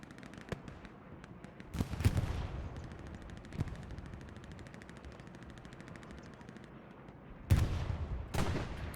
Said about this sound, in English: Artillery dropping down.